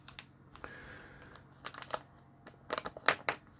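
A plastic anti-static bag holding a small LED controller board is opened up close, giving a quick run of crinkling and rustling plastic noises with no talking.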